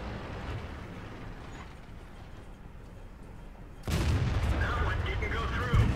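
A tank cannon firing in World of Tanks, a T-54 shooting at an E-50, with a sudden heavy boom partway through after a stretch of rumbling engine noise, followed by lingering roar.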